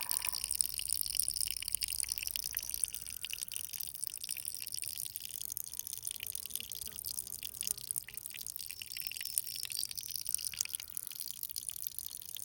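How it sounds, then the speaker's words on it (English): A faint, steady trickle of spring water seeps out of the ground in a springtime wood, a soft, continuous hissy wash with light dripping, distant and quiet with no voices. "I just love this water coming out of here."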